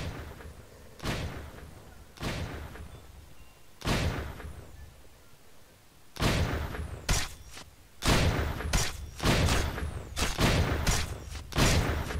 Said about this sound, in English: Then begin firing.